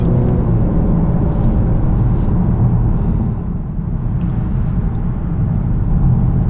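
A 2019 Honda Accord Sport 2.0T with a 10-speed automatic accelerating at around half to three-quarter throttle, a steady low engine and road rumble heard from inside the cabin, loud and continuous without talk.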